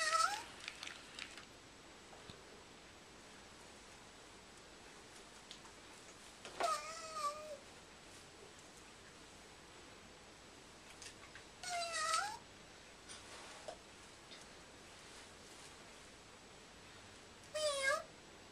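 A cat meows in four short, fairly faint calls spaced several seconds apart, each a rising and falling wail over a quiet room.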